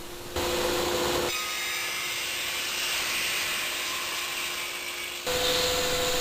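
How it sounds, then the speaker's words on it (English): Recycled IKEA shelving is sawn into strips. A loud, steady power-saw whine and hiss runs for about four seconds, with quieter workshop noise before and after. "I start by cutting some recycled IKEA shelving into strips"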